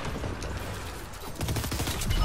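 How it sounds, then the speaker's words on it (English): Rapid bursts of enemy gunfire from the video game Fortnite crackle in quick, dense volleys, loud and close with no talk over them. "the guy up top is shooting me again"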